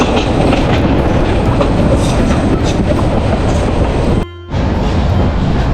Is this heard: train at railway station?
yes